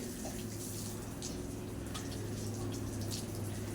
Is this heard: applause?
no